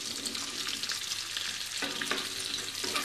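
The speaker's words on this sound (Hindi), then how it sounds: "उसी तेल में हम डालेंगे प्याज, और हम साथ ही डाल देंगे शिमला मिर्च" Chopped onion and capsicum sizzle loudly in hot oil in a kadai for kadai paneer, a steady crackling fry with stirring scrapes, close and alone without any talk.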